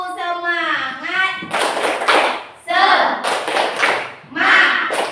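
Children in a classroom perform a rhythmic 'tepuk semangat' clapping ice-breaker, bursts of loud clapping alternating with chanted voices in a lively pattern.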